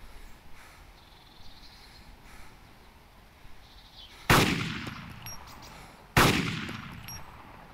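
Two sharp, loud gunshots in the Arma 2 DayZ mod, spaced a couple of seconds apart, each ringing out with a long echoing tail over a quiet outdoor ambience.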